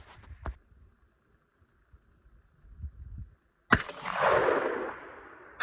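A 12-gauge shotgun fires a single 6-shot high brass Remington Express long range shell, a sharp close blast followed by a loud, rolling echo that fades slowly, after a quiet stretch of faint background noise.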